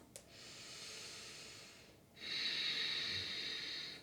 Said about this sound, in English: And whenever you feel like it, you can breathe out through your mouth.